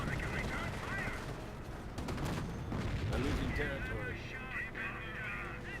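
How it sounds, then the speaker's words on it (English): Heavy gunfire and explosions roar in a skirmish of the video game Company of Heroes, with dense rapid shots and booming blasts forming a continuous loud battle din, and someone talks over it. "I don't know what's causing that massive explosion"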